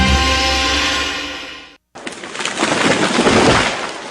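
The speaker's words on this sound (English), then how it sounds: "That was the sound of a tree falling." A tree falling as a sound effect in a radio ad: a tonal creaking build, a brief silence, then a long loud crashing rush of breaking branches and debris.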